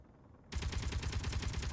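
Rapid automatic gunfire from a weapon in Space Engineers begins abruptly and continues as a loud, steady stream of fast repeated shots, with no voices over it.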